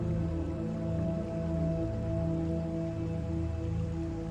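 Steady rain falls continuously, a dense even wash with a low droning hum underneath, no voices.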